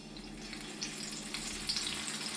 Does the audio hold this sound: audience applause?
no